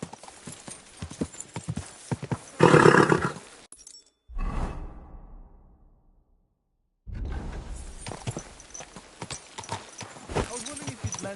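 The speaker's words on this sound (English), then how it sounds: "Easy, good horse." Horse hooves clip-clopping in the video game Kingdom Come: Deliverance II, with a burst of louder movement and a possible whinny, a quiet gap, then steady hoofbeats again; talk is heard over parts of it.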